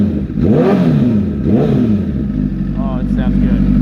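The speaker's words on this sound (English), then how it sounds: "I just want to show you guys the rev sound." Motorcycle engine revved up twice in quick blips, then held at a steady, throaty idle; very loud and close, with a person talking briefly over it near the end.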